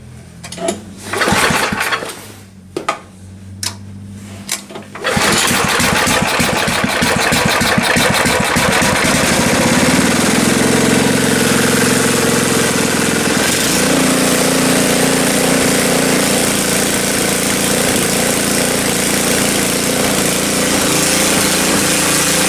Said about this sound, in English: Doesn't like to run with the choke off.